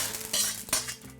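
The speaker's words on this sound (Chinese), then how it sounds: "把肉上我们3次油温直接下入肉片，这个用筷子轻轻给它挑开" Slices of meat hiss and sizzle in hot oil in a wok as chopsticks gently separate them, with loud crackling bursts and scraping stirs close by.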